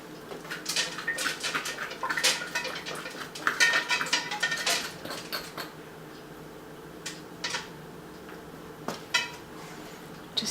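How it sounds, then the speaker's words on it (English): A spoon scrapes and knocks against the hollow of a halved butternut squash, pulling out the seeds in quick bursts of clatter and rasping, louder early on, then sparse taps trailing off. "Just get the majority of the seeds out now."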